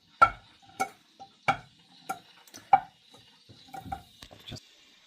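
Four eggs dropped one after another into a pan, each landing with a sharp clack against the metal, spaced irregularly and close up, with a few softer knocks and rattles between them.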